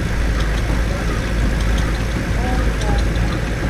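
A large Ruston of Lincoln stationary engine runs steadily at an outdoor ploughing championship show, a continuous low chugging drone with no pauses, fairly close, with crowd murmur around it.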